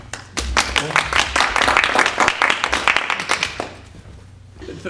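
Audience applause at a community talk in Taneytown, dense broadband clapping from a crowd that swells and holds for about four seconds before thinning out, with some voices mixed in.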